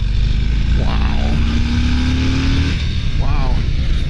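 A 2023 Harley-Davidson Street Bob 114 motorcycle engine pulls hard under acceleration, with a loud, steady roar and a rising tone close by, overlaid by wind rush and a brief voice.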